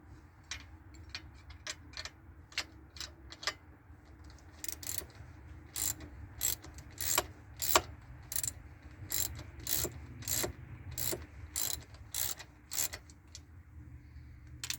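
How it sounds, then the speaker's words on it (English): A ratchet wrench loosening a bolt on a four-wheeler, giving loud, close runs of sharp metallic clicks in repeated strokes over a low background rumble. "Now I can just ratchet on this side."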